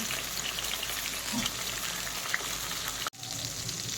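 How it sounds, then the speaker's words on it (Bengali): A rohu fish head frying in oil makes a soft, steady sizzle with faint spitting crackles, fairly quiet and continuous, briefly cut by a sudden dropout near the end. "এখন মাছের মাথাটা ভালোভাবে ভেজে নেব"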